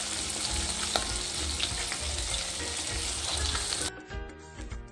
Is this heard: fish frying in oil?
yes